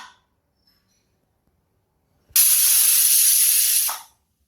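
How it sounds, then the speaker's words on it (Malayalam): A pressure cooker vents steam while mushroom biryani cooks, a loud continuous hiss that starts abruptly after a quiet stretch, holds for about a second and a half, then cuts off. "സ്റ്റീം വന്നിട്ടുണ്ട്. ഇനി ഞാൻ വിസിലിട്ട് കൊടുക്കാം."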